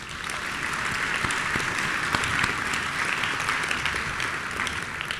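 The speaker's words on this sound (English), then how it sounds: "Could we give them all a round of applause?" Steady applause from a commencement audience, dense and sustained clapping across the whole stretch with scattered sharper claps standing out, fairly close and even in loudness.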